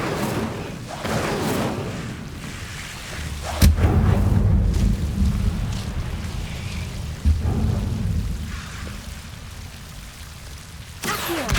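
Incendio fire spell in Hogwarts Legacy, cast during a fight with a huge venomous creature: a steady roaring, crackling rush of flame with two heavy thumping bursts partway through, loud and continuous throughout.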